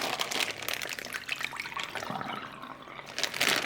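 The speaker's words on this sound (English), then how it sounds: "So I'm just going to drain the water from the seeds" Soaked palm seeds having their water drained off, a steady pouring, splashing trickle of liquid that runs close and fairly quiet for several seconds, swelling briefly near the end.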